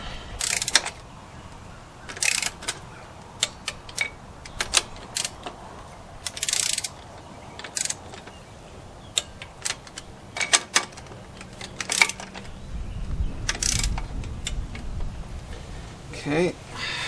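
A ratchet clicks through bursts of short, sharp turns as bolts are tightened in a cross pattern during a Polaris side-by-side UTV engine rebuild, with irregular pauses and light metallic handling between the bursts.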